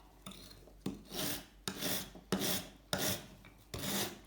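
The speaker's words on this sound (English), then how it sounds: "Let's try the wire brush." Wire brush scraping hard across the coated frame of a vintage Italian Atala gravel bike, in five or six loud, rasping back-and-forth strokes with short pauses between them, close up and without talk.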